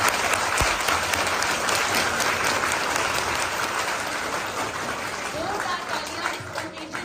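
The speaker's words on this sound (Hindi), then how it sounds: "एक बार जोरदार तालियां" Hearty applause from a gathered audience at an Indian public event, many hands clapping steadily and fairly close, with voices mixed into the crowd noise.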